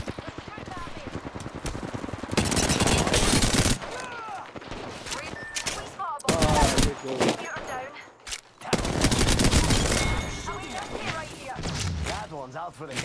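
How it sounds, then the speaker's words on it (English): Sniper gunfire in an Apex Legends video game match: loud bursts of shots in several clusters, separated by brief lulls, with a player talking between them. "there's a dude sniping me from there"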